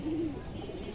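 A large Indian Kaldam pigeon gives a short, low coo near the start, then the air settles into faint ambient noise.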